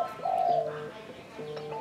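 A spotted dove, a wild-type forest bird, gives a deep, soft coo with a steady tone, close and fairly clear over light background noise, followed by a fainter second phrase.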